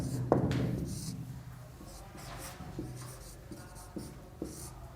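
Pen writing the subject line of an official letter on paper, close scratchy strokes in short bursts with small taps and pauses between them, faint and intimate.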